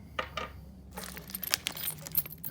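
Dice from a Clue board game rattle and clatter in the hand and on a surface. Quiet, close clicks and taps come in a scattered run with no talking.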